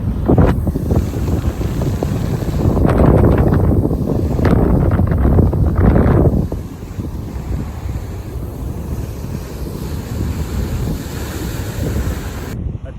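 Strong wind buffets the microphone at a sea shore beside the Ratneshwar Mahadev temple, a loud steady roar with surf underneath, gusting harder in the first half and easing to a lower constant rush.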